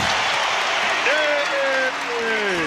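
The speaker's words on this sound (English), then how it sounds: "he just got a great round of applause from the crowd here at Delta Center" A large arena crowd at Delta Center applauds and gives a standing ovation, a loud continuous wash of clapping, with a commentator's voice rising over it.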